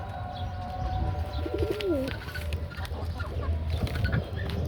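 Pigeons coo in a low, warbling burst midway through, over steady background rumble and scattered small clucks and rustles.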